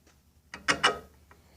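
A nut turned on the threaded screw of a homemade bearing housing puller tool for a 9.9 and 15 HP outboard, giving a short cluster of close metallic ratcheting clicks and grinding scrapes.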